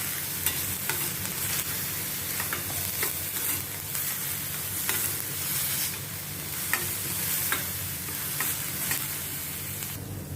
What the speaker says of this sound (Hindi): इसको प्याज और हरी मिर्ची को मैं थोड़ा सौटे करती हूँ